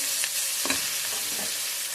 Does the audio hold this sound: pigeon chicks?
no